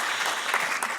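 Audience applause at a university event in a new downtown campus facility, a steady dense clapping that fills the whole short moment without pause.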